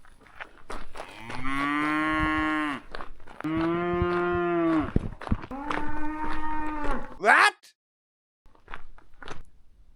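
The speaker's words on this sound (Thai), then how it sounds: "พี่วัว ดูดิ แต่เขาตัวใหญ่มาก" A large cow in the mountain village of Velika Planina near Ljubljana gives three long, loud, close moos in a row, followed by a short higher cry and faint scattered sounds.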